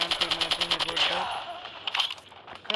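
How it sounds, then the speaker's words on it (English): An MG42 light machine gun fires in the Call of Duty video game, letting off a rapid, rattling burst of shots up front for about a second before the sound trails off into fainter game noise. "MG42 ఉంది guys. What a best what a best LMG ఎంత బాగుంటుంది తెలుసా గైస్"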